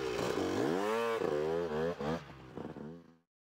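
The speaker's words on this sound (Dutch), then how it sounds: "motorrijdster Marcia past bij een motor" Cartoonish motorcycle engine effect from the 1999 Blinky Bill PC game: a loud revving whine that rises in pitch, warbles through a few throttle blips, then cuts off abruptly, with no talk.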